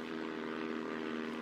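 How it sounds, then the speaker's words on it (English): A Tiger Moth propeller biplane flies overhead with a steady droning engine hum, fairly faint and continuous throughout. "It was none other than Miss Speed flying her new plane called Tiger Moth."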